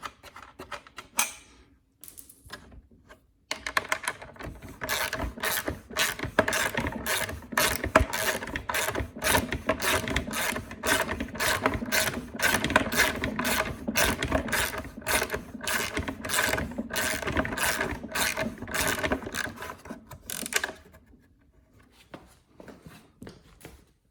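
Working on a Honda GCV160 lawn mower recoil starter, a wrench gives a rapid run of sharp ratcheting clicks for about fifteen seconds, close and crisp, with brief quieter handling before and after.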